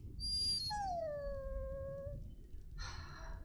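A dog in the Dragon Age video game gives a drawn-out whining howl that slides downward, then a shorter high whimper follows, heard over a low game background rumble with no talking.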